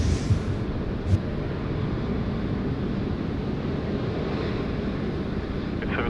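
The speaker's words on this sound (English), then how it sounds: "It is a little bit breezy, but looks magnificent" Breezy summer wind at Sydney Airport blows steadily across the microphone, a loud, continuous roar with no break.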